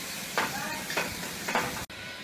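Radish thecha chutney seasoned with salt is stirred in a hot pan, with three scraping, sizzling strokes over a steady frying hiss, close and fairly loud.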